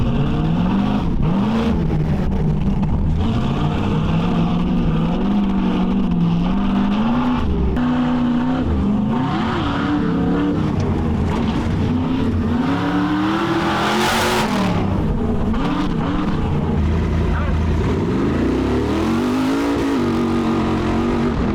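A loud Ultra 4 off-road truck engine revs up and down repeatedly on a rock crawling course, its pitch rising and falling as it works hard nearby.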